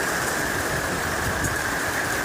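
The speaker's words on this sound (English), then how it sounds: "look at all that hail coming down in the Lincoln area. You can see and hear it" Hail pouring down during a Northern California storm near Lincoln, a dense, steady hiss and rattle of stones striking surfaces, loud and unbroken throughout with no voices.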